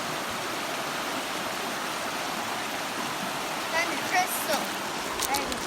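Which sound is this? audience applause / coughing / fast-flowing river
fast-flowing river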